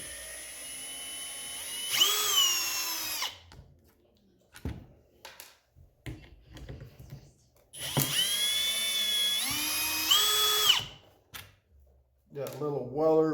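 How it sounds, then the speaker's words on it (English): A power driver backs out Phillips head screws from a Speed Tech Lights 14-inch K Force micro mini light bar. Two loud, whining motor bursts of a few seconds each are separated by a pause with someone talking. "So we're gonna take these screws off."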